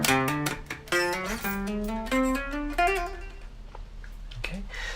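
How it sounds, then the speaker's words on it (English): Electric guitar fill, a quick string of picked notes stepping up in pitch, then a pause and a couple of scattered plucks, moderately loud and close with no talk. "So the actual guitar fill will sound like this."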